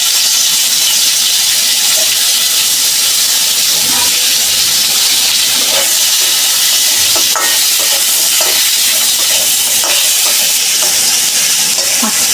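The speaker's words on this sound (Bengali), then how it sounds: "মাছটা একটু লাল করে ভাজে নিয়াম" Loud, continuous sizzling of fish frying in hot oil in a wok, a steady hiss with occasional pops and clinks of a utensil, no talking.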